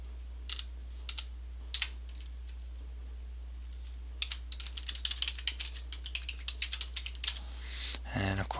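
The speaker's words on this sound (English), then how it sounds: "you got to type again to make sure you type it right" Typing on a computer keyboard while filling in a self-registration form, a few scattered key taps followed by a faster, denser burst of clicking keystrokes, close and clear, without talk.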